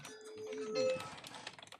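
Brief burst of quiet keyboard typing, a few soft clicks with a faint tonal hum and murmur in the background.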